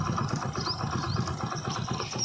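A modified motorcycle engine runs steadily at idle with a fast, even ticking pulse laid over its low rumble, loud and close with no voices.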